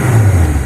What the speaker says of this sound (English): So when you start the engine,